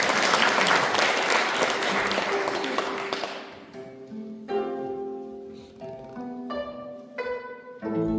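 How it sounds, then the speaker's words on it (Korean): Congregation at a Won Buddhist Sunday service breaks into loud, dense applause for about three seconds, then fades as a few tapping claps linger under sustained musical tones that begin. "박수!"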